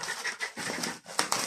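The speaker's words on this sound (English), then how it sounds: "And you can hear Polly panting in the background" A dog indoors pants in quick, breathy bursts, steady and fairly close, with short pauses between runs of breaths.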